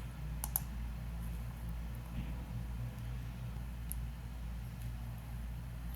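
A few soft key clicks come from a computer keyboard during a login, sparse taps over a steady low background hum.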